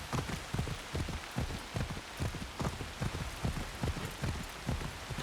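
Steady rain pours down in the video game Assassin's Creed Shadows, a dense, even hiss with irregular heavier drops pattering throughout, close and continuous with no voices.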